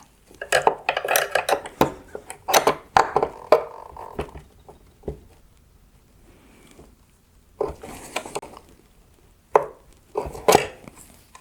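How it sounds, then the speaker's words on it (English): Clicks and clatter while the adjustment screw is popped out of a 2025–2026 Rivian R1T/R1S headlight, a series of sharp plastic snaps and taps in uneven clusters, with a quiet pause in the middle. "Next, I will pop out the adjustment screw."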